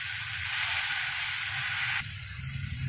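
Tomatoes for butter chicken sizzle in a hot pan with a loud, even frying hiss that drops off abruptly near the end, leaving a quieter simmer.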